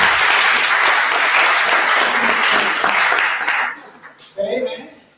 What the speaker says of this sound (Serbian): Možemo ih pozdraviti jednom aplauzom.